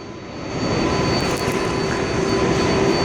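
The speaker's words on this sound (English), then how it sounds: "Empty 7 train." An empty New York City subway 7 train runs after morning rush hour, a steady loud rumble and roar of the moving car with a faint high whine, no voices.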